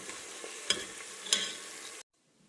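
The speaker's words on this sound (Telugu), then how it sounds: "ఇది ఆల్మోస్ట్ ఫ్రై అయింది. ఇంకొంచెం గోల్డెన్ బ్రౌన్ వస్తే తర్వాత ఈ గ్రీన్ మసాలా వేసుకోవచ్చు దీంట్లో." Ingredients for donne biryani fry in hot oil toward golden brown, a loud continuous sizzle broken by two sharp stirring scrapes, then cutting off abruptly to near silence.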